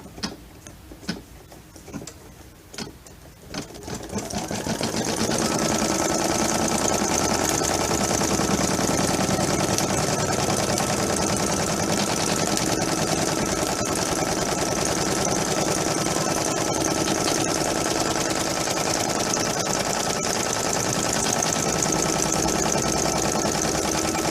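A sewing machine stitches out a doll foot, with quiet handling at first, then a steady, loud, continuous mechanical whirring and ticking that runs without pause to the end.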